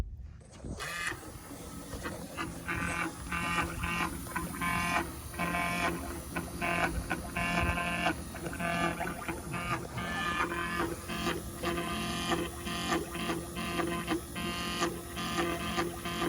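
An electric fuel pump on a 1975 International 200 pickup found sitting in a field runs with a steady mechanical buzz and rhythmic ticking, drawing fuel from a tank, close and continuous throughout.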